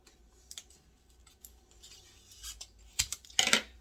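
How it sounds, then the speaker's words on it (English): Scissors snip into a paper Easter basket favor box, giving a few quiet, sharp cuts and clicks close by, with the last two snips louder, and no talk. "I'm probably going to cut that away a little bit with some scissors just so I can get it out the way."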